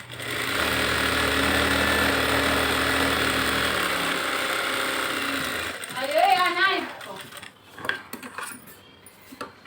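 A sewing machine runs steadily for about five seconds while stitching a folded seam on a lined blouse, then stops; a voice follows amid small handling clicks.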